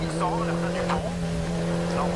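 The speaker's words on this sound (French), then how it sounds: "Cette Peugeot Emera pilotée par Romain Dumas durant ce week-end Sévenol" A Peugeot rally car at speed on a special stage of the 2013 Critérium des Cévennes gives a steady, loud engine drone from inside the car, with a voice talking over it throughout.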